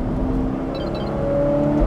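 A Ferrari F8 Spider with its top open, in race mode and fitted with a Brilliant exhaust with the valves open, revs up past 3000 rpm. The engine drones loud and close, and its tone climbs steadily with no voices.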